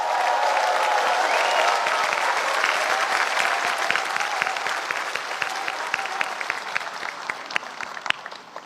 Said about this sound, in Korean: 여러분 뜨거운 박수를 보내주십시오